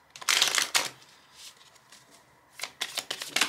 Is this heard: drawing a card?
yes